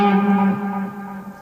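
A sustained electric guitar tone through a Blackstar HT amplifier's delay effect, repeating echoes trailing off, the notes smearing into each other with a reverberant tail.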